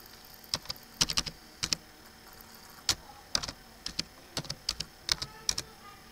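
A password typed on a computer keyboard, irregular bursts of crisp key clicks, some in quick clusters and others spaced apart, close and fairly quiet with no talking.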